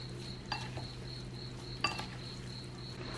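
A mixture with sesame oil and sugar being stirred in a bowl, with quiet scraping and two light clinks of a utensil against the dish over a steady faint hum and a high whine.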